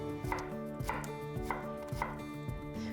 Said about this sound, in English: Chop the carrots and zucchini into small pieces.